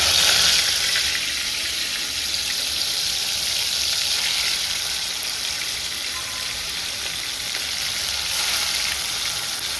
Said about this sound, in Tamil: ஓகே இப்போ நான் ஃப்ரை பண்ண போகிறேன்